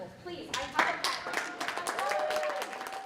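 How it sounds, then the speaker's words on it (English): A crowd of partners at a fair election event in Buffalo claps and cheers, scattered hand claps building into brief applause amid voices and chatter. "A lot of the partners were cheering and standing up and clapping."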